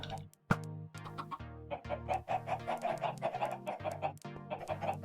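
Blocky Minecraft chickens cluck over and over on a farm, short clucks that come close and fairly loud, some overlapping, with a single sharp louder cluck near the start.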